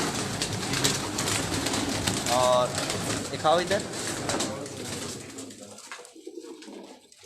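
Home-bred pigeons coo from a rooftop loft in Karachi, a few soft warbling calls rising over steady background noise while someone talks nearby.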